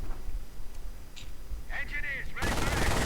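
Machine gun fire in a real-time strategy wargame starts as a short burst mid-clip and then becomes a loud, dense spray of shots over the game's battle noise.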